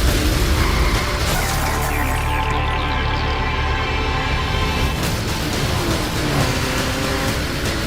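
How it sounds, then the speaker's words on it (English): A bridge collapses in the racing video game Split Second, a loud continuous rumbling crash layered with roaring car engines. The din stays dense and steady throughout, with no talk. "Driver 48 is triggering bridge collapse."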